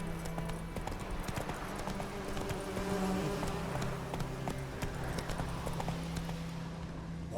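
Roach the horse gallops in The Witcher 3 with a steady, rapid clip-clop of hooves on the ground, fairly quiet, continuous rhythm with a brief faint whinny-like tone mixed in.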